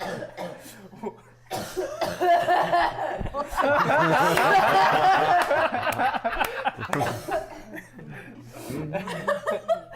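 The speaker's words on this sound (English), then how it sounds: "I hear someone coughing behind us." Someone coughs repeatedly in harsh bursts, with chuckling and talking around it; the coughing grows heavier in the middle, then eases.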